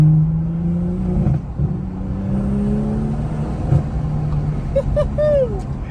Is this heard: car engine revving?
yes